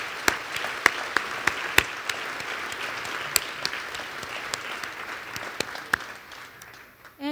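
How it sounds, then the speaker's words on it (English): An audience applauds at an employee recognition and leadership award ceremony, a sustained wash of clapping with individual sharp claps standing out, fading at the end. "If you could join me in a round of applause for them"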